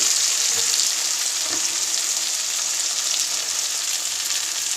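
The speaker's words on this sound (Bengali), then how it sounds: "আলুটা দিয়ে ভালো করে ভাজছি।" Potatoes and cauliflower fry in oil in a wok, giving a continuous loud, even sizzle that holds steady throughout with no talking.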